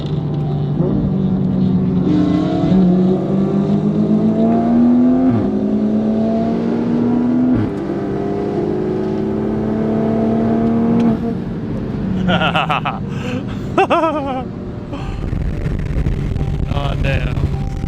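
Several enthusiast cars pull away from a car show, engines revving and accelerating loudly up through rising pitch sweeps, close by, with brief louder bursts near the end as more cars rev past.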